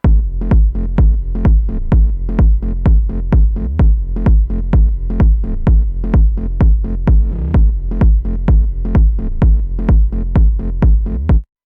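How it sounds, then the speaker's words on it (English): Punchy techno bass hits pulse in a fast, steady rhythm with deep sub-bass weight underneath, loud and continuous without any voices. "And with the sub bass together, it sounds like this."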